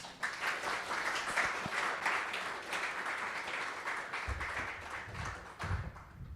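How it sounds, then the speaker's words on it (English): An audience at an evening conversation event with Sayeeda Warsi claps warmly as guests come to the stage, a steady wash of applause with some low knocks and shuffles near the end. "Keep clapping as we get comfortable."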